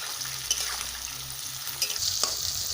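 Peas and carrots sizzle in a hot pan, with a few quick spatula scrapes and taps over a short, steady burst of frying.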